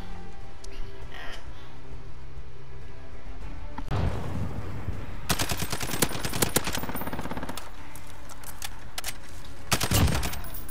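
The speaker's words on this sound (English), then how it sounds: "this suppressor sound sexy on this bitch too" Suppressed SCAR rifle fire in the Modern Warfare video game, rattling off in several quick automatic bursts after a quiet opening, with a final short burst near the end, loud and close.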